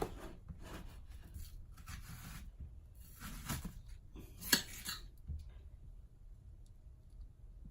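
Quiet knife or scissor cuts through vegetables in a home kitchen, a few soft separate snips and scrapes with one sharper click, close and faint with pauses between.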